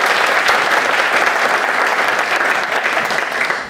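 An audience at a student gathering event in a hall gives steady, loud applause, a dense sustained roar of many hands clapping that tapers slightly at the end, with no talk.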